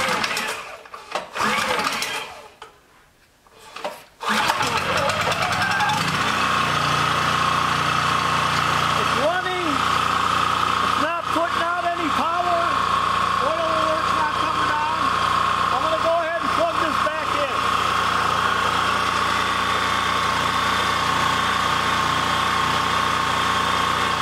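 A small engine sputters in a few seconds of uneven bursts, then settles into a constant, droning idle that runs steadily for around twenty seconds, with a few brief chirping squeaks partway through.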